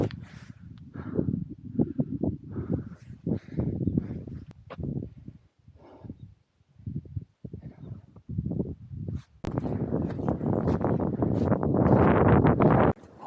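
Wind blowing across a mountain trail on Unmunsan during a hike. A low rumble builds into a strong, steady roar of gusts buffeting the microphone in the final seconds.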